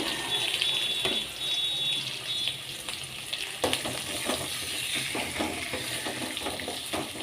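Small shallots and tomatoes sauté in a little oil in a kadai, a continuous close sizzle broken by scattered scraping stirs.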